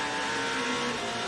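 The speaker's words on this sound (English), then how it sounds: "Just two cars between us having the opportunity to hear 24 cylinders lapping in" Aston Martin race cars with 24 cylinders between them howl past during practice at the 24 Hours of Le Mans, a loud, steady, tonal engine roar over a short burst.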